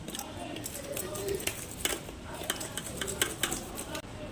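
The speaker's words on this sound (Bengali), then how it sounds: "মাছগুলোকে একটা চামচ দিয়ে আঁশগুলো ছাড়িয়ে নেব" A spoon scraping scales off hilsa fish, producing quick repeated rasping strokes and small clicks at close range, moderately quiet.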